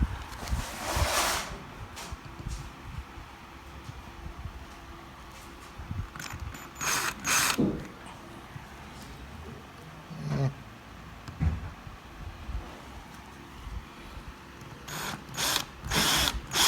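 A drill fitted with a DeWalt bit boring into wood without a center punch, the bit pressed down hard: irregular grinding and whirring bursts of varying loudness, with several sharp louder surges near the start, middle and end.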